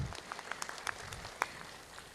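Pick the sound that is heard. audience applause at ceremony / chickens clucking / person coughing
audience applause at ceremony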